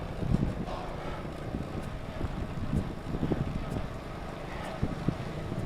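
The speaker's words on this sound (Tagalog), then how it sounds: "Mahangin lang dito sa Vermosa." Gusty headwind buffets the microphone on a bike ride through Vermosa, a rough, rumbling roar that swells and dips in uneven bursts without any talking.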